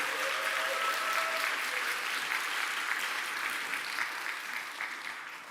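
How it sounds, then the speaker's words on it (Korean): Sustained applause from a church congregation for an elders' choir at a Jeju evangelism rally, dense and steady throughout, tapering slightly at the end. "우리 제수 장로 합창단에게는 응원과 격려의 박수 한 번 다시 보내드리겠습니다"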